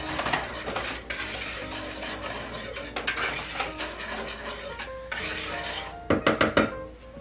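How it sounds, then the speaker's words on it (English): A whisk scrapes and clinks quickly against a bowl as baking powder, baking soda and salt are mixed for a gluten-free coffee cake, with brisk rhythmic strokes ending in a few sharper taps. "Whisk together to combine."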